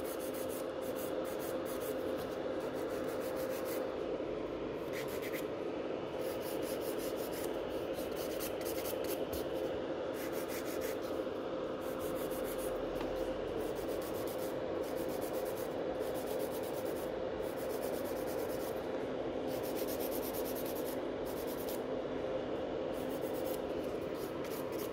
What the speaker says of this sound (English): file on the side so the nails are nice and slim